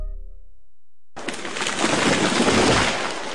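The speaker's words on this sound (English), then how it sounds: "That was the sound of a tree falling." Sound effect of a tree falling: after a low rumble, a sudden loud burst of crackling, splintering noise erupts and builds into a dense, crashing roar that keeps going.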